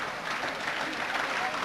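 Football crowd at Plymouth Argyle versus Luton Town, 1996/97, applauding Argyle's play: a broad, steady roar of clapping from the stands, distant and continuous.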